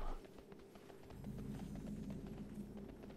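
Horse hooves clip-clop at a steady gait while riding in the video game World of Warcraft, a continuous rhythmic patter of close hoofbeats over a low rumbling background, with no talk.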